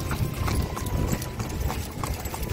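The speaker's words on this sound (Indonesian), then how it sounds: "taktik tuktik taktik tuktik taktik tuktik tak, suara sepatu kuda" Horse hooves clip-clop steadily along a street in downtown Luxor, Egypt, in the morning, with a continuous rhythmic trotting close by over low traffic rumble.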